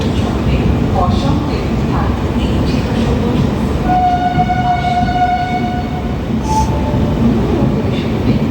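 The Kamakhya–Puri Express (15644) at Kharagpur Junction produces a loud, constant rolling rumble, and a long horn blast rises over it midway while people talk nearby.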